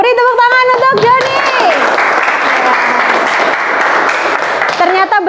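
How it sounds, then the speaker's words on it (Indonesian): Classroom children clap together in a burst of applause, bracketed by a teacher's voice speaking before and after the clapping. "Beri tepuk tangan untuk Joni."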